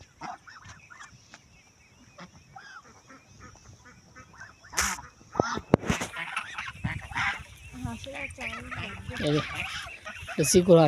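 Geese honk repeatedly nearby, growing louder and more crowded toward the end, with some talking mixed in.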